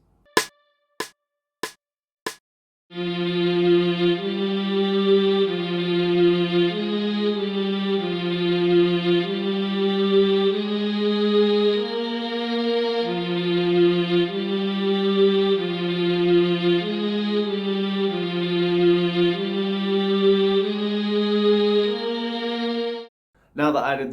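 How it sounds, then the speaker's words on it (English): Sustained bowed violin string preset from an MPC standalone plugin plays a layered melodic line in a beat, loud and steady after a few sharp opening hits, with no talking. "So I decided to add a violin preset off the MPC's standalone plugins"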